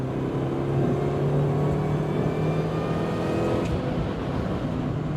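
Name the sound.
R53 MINI Cooper S engine with supercharger pulley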